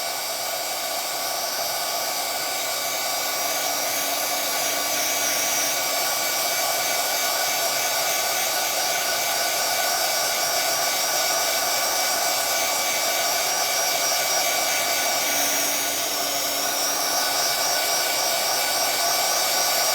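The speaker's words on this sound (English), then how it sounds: "So I'm going to heat set it from both angles, both sides, from this side as well as from behind." An embossing heat tool blowing hot air to melt and set embossing powder on paper, a loud, steady, unbroken whooshing hum like a hair dryer, close and continuous throughout with no voices.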